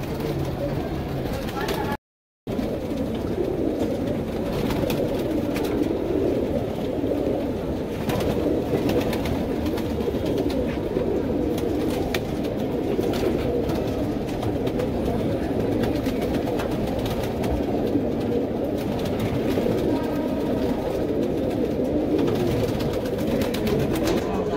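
Sharanpuri pigeons in a coop in Kurla, Mumbai, cooing steadily and close by throughout the clip, with people talking over the birds.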